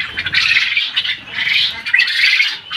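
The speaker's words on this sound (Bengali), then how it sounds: "এটা আমার জাপানি জাতের কোয়েল।" Japanese quail on a farm call in shrill, chattering bursts, several overlapping birds giving loud, close, continuous squawks with brief dips between them.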